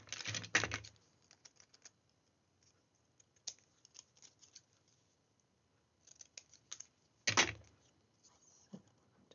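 Scissors snipping paper for a place card: two crisp, close cuts several seconds apart, with light scattered paper handling clicks in between.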